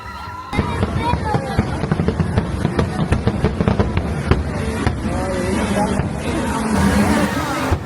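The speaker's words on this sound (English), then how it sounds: "Having the fireworks in the background suddenly elevates this experience into something even more magical." Fireworks crackle and thump in a steady barrage behind a theme park boat ride at night, dense popping bursts under crowd chatter and a low boat or motor hum, with voices talking throughout.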